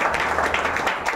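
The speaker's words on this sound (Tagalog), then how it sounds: "Pumalakpak yung pinalaya ng Lord." Congregation applauding during a church service, a dense, steady wash of many hands clapping at close range for about a second, with no pause or gap.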